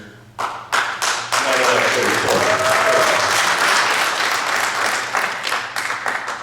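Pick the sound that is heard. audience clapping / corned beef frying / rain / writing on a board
audience clapping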